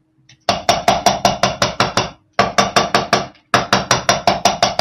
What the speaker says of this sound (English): I'm hammering this on both sides. I'm actually making it all on the same plane, so it's flat.